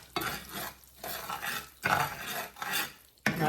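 Spatula scraping and stirring a sugar roux of butter and sugar with sage in a pan for candied beets and carrots, a close rasping rub in repeated strokes with brief pauses between them.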